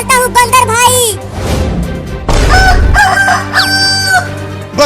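A cartoon rooster crows loudly in drawn-out, wavering calls with clucking bursts between them, close and prominent, with cartoonish vocal squawks mixed in.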